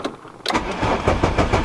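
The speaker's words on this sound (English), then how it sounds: "Let's make sure to start the car." An MK3 car engine cranks and catches after its instrument cluster is reinstalled: quiet at first, then a sudden start near the half-second mark settles into a rough, pulsing idle close by.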